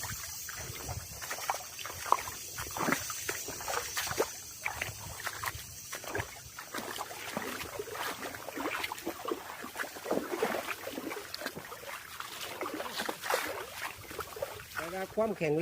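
Canal water flows through a durian orchard, a soft trickling and sloshing that runs through the whole stretch beneath a voice talking on and off.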